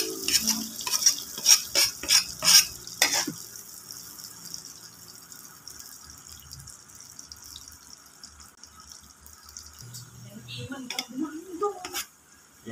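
Garlic going into a pan to fry, starting with a burst of loud crackles and stirring clatter, then settling into a quiet, steady sizzle before more utensil noises near the end.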